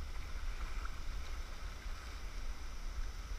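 Rushing river water from a boat paddled through rapids on the Nymboida River, a loud, steady, close roar of churning whitewater with no talk.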